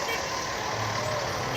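A very large grapple truck rolls past in an evening parade of lights, its steady engine rumble loud and close, with a reversing beep and crowd noise mixed in.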